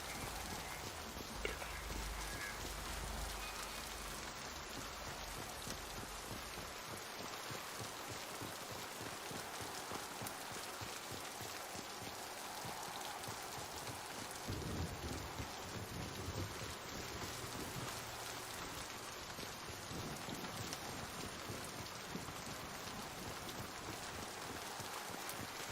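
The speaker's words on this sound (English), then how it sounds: "this is the first board I've been at where it rains" Rain falling in the video game Mass Effect 2, a steady, dense hiss of rainfall with a low rumble of wind at the start, continuous and even throughout.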